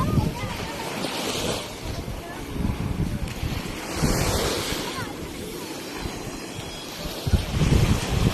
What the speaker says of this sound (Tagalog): Ayan, ang ganda ng dagat.